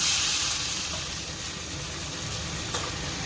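Spaghetti being stirred with black pepper, salt and oregano leaves in a hot pan, a steady soft sizzle and hiss that fades slightly after the first moment, with a brief faint scrape near the end.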